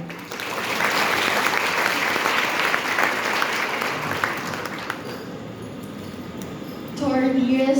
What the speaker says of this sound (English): A round of applause and we will.